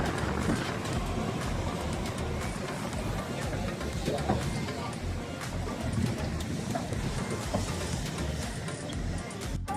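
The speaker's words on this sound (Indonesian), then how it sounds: "Kereta bawah tanah." A London Underground train rumbles past in a station, with a steady loud roar and rail clatter filling the whole stretch, and voices faintly mixed in.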